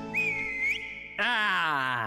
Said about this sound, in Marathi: शिट्टी मार